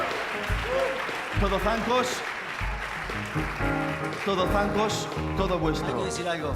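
Audience applause at a circus awards night honoring the Todozancos circus company, clapping that persists under someone speaking into a microphone.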